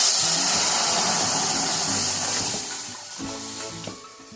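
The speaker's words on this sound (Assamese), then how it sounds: "ভাজি কচুখিনি এতিয়া ঢালি দিম" Taro pieces frying in hot oil with ripe chillies for a sour taro curry make a steady, dense sizzling hiss that softens slightly toward the end.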